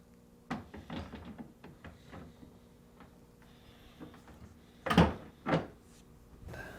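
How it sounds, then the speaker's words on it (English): Whirlpool Maytag freezer door being lined up and hung on its struts, with a series of light knocks and clunks building to two louder thuds near the end, close and without talk. "To install the freezer door, align the hanging tabs near the bottom of the door to the slides and the bolts to the notches on the hanging struts."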